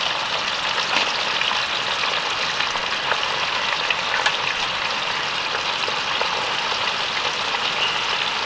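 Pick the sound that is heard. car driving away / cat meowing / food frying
food frying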